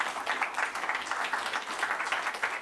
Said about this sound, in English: you should applaud that as well